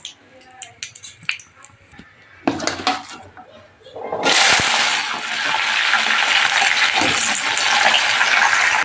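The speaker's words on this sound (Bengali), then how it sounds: "তো এখানে দেখো পেঁয়াজটা ভাজা হচ্ছে" Chopped onions, added after bay leaves, start frying in a pan: clinks and knocks of utensils first, then a loud steady sizzle that fills the rest of the clip.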